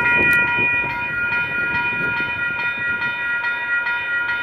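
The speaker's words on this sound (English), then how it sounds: "Here comes the Amtrak." An Amtrak southbound passenger train approaches on the tracks, its horn sounding as a loud sustained blast over a rumbling, clattering rail roar that holds steady throughout.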